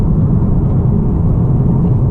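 A 2018 Honda Accord Sport with the 2.0-liter turbo and six-speed manual cruises down a back road, its steady low engine drone and road rumble filling the cabin continuously, loud and unbroken, with no voices.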